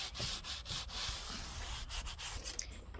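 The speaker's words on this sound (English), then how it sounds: "we are going to be sanding in between each one of those coats" Sandpaper rubs over a painted wooden chair between paint coats in quick back-and-forth strokes, a close, rhythmic scratchy hiss that never stops.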